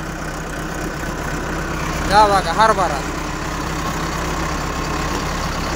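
A tractor engine runs steadily on the way past chickpea fields, a constant low rumbling hum throughout, with someone briefly speaking over it midway.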